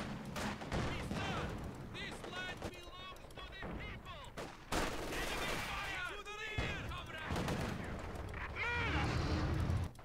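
Battle in Company of Heroes 2 with machine gun and enemy fire, continuous rattling gunfire and thuds layered under shouted voice lines, loud and dense throughout.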